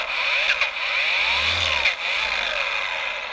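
A DeWalt DCM848 dual action random orbit polisher runs continuously nearby, a loud high motor whine with a few brief dips and wavering pitch as it spins.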